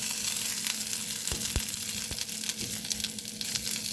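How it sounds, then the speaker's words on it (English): Sausage patties fry in a pan with a constant close sizzle and crackle, punctuated by a few sharper pops and spatters, no talking. "I got my sausage patties in here. Just letting them, you know, cook a little bit here."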